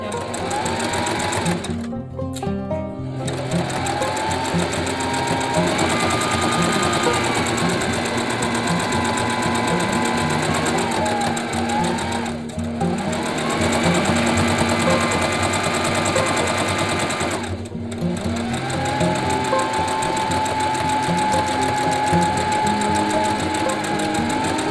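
A sewing machine stitches fabric for a receiving blanket in long, steady runs of rapid mechanical whirring, pausing briefly several times before starting again, loud and close throughout.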